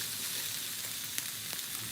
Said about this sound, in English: You see it's making a nice sizzle sound.